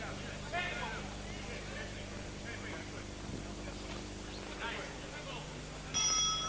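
A boxing ring bell ends the second round of an eight-round professional bout between Crisanto España and David Taylor. A bright metallic ring comes near the end, over steady arena crowd noise and a commentator talking.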